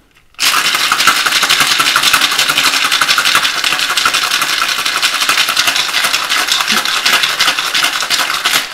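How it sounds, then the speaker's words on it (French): Cocktail shaker packed with ice being shaken hard to chill and mix a Zombie cocktail, a loud, continuous rattling churn that starts abruptly and runs steadily to the end with no talking. "j'envoie ça au shaker pour le refroidir et le mélanger"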